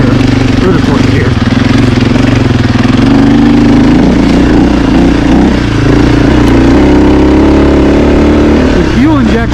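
A 2024 Husqvarna FE450 fuel-injected dirt bike lugs along in third or fourth gear. Its loud, close engine drones with a deep, steady rumble, and the pitch wavers slightly near the end.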